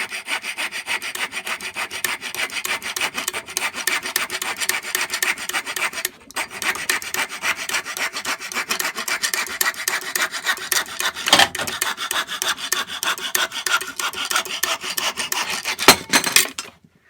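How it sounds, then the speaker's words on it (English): A push cut saw cuts through hardwood with rapid, quick, even strokes, giving a continuous close rasping scrape with a short pause partway through and a brief break near the end. "Now, this is a push cut saw."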